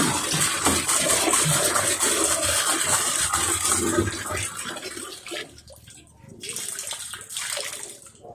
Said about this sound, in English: we are going to pour this water